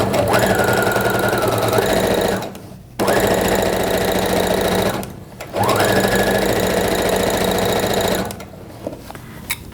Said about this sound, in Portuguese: vou para a máquina e faço uma costura aqui de pé de máquina